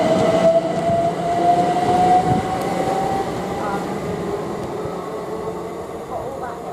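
A Class 800 IET train running Oxford to London Paddington passes Goring & Streatley on the Great Western Main Line, a loud rushing rumble with a high tonal whine that gradually fades as it moves away.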